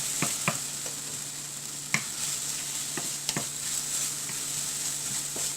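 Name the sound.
green chili added to the pan and frying for broccoli curry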